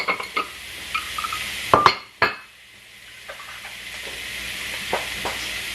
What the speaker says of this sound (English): we're going to stir fry it for a bit, for 6 to 7 minutes